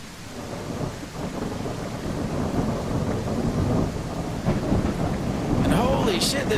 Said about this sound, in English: And holy shit, this storm is a storming! It's a loud storm.